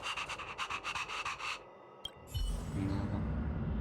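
Peppy, the dog in Honkai: Star Rail, pants in quick rhythmic breaths, about a dozen close huffs in a row, before a brief pause and a shift to louder background ambience.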